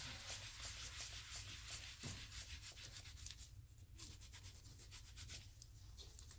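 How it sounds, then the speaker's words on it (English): A rag wipes water-based dye across a leather surface, making faint, quiet rubbing strokes in a continuous soft brushing rhythm. "wipe it right off with a rag"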